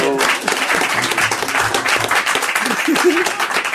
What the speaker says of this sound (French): On vous applaudit encore, bravo, Souleymane Mbaye.